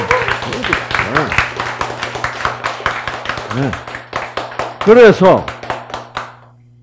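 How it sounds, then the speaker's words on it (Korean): A lecture audience claps in a quick, rhythmic burst of sharp hand claps, with a voice talking over and between the claps before it fades to quiet. "박수!"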